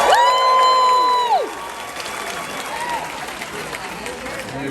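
Cruise ship game show crowd applauding and cheering on Allure of the Seas, a loud burst at the start under a bright voice, then settling into sustained clapping from a packed room.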